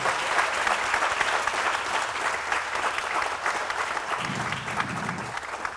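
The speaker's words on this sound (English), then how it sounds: "how about a round of applause for all of our scholarship winners?" A room full of people at a youth center scholarship night gives steady, dense applause for the winners, loud and continuous throughout with a faint voice near the end.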